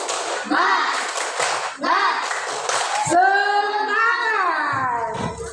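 A group claps the Indonesian 'tepuk semangat' chant in quick rhythmic bursts while voices chant along, then singing voices take over toward the end.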